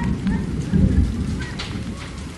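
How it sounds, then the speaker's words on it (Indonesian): Heavy rain pours steadily during a storm in Banyuwangi, with low rumbling thunder building and swelling beneath the constant hiss of the downpour, fairly close and full. "Hujan deras disertai petir di Banyuwangi"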